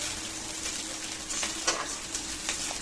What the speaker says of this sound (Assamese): পিঁয়াজখিনি একদম ৰঙচুৱাকৈ ভাজি ল'ম।